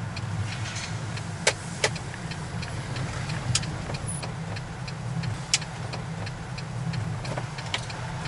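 A car drives along a road with a constant low rumble of engine and tyres from inside the cabin, broken by a few sharp clicks and ticks.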